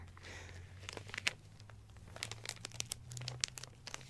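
A plastic cover around an album crinkles up close, quiet at first, then a rapid run of sharp crackles and rustles with no talking.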